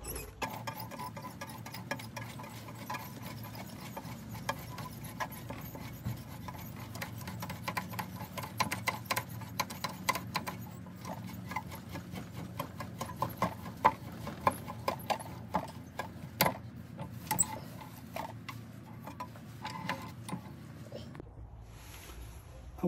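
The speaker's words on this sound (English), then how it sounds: "we're gonna go ahead and cut those threads on the outside" A threading die cuts threads on the outside of a gray swirl ebonite fountain pen body, making faint, irregular clicks and scratchy ticks for about twenty seconds before it goes quiet.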